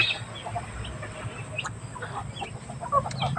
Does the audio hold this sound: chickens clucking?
yes